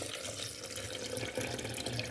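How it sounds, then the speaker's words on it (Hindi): Water poured into a grinder jar of spiced water for pani puri, a steady soft splashing trickle heard close and alone for a couple of seconds. "और अब इसमें हम पानी डाल देंगे"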